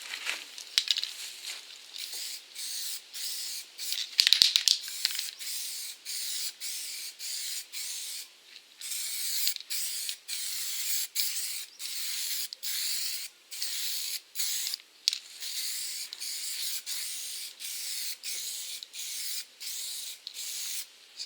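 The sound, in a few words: spray can spraying primer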